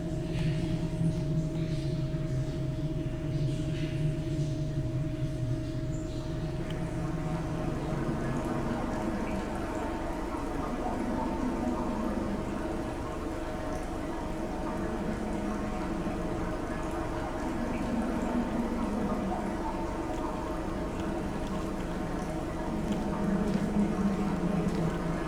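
Water flows steadily in the video game Dear Esther, a soft, continuous rushing wash that starts with a faint tone and stays fairly quiet throughout.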